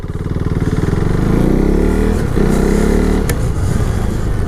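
A KTM Duke 390 motorcycle engine running close by, with a loud, throaty single-cylinder burble that climbs in pitch as it revs, briefly dips, then settles into a steady idle-like rumble, with no talking.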